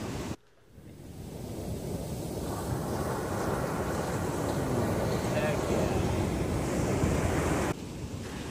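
Ocean waves wash up on a sandy beach in a steady, broad rush of surf with wind noise on the microphone, loud and close, briefly dropping out near the start.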